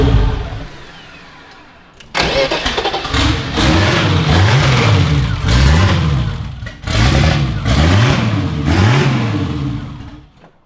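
A turbocharged BMW M20 stroker six-cylinder cranks and catches after a quiet lead-in, then revs in repeated rising and falling sweeps, loud and close, dropping briefly between pulls.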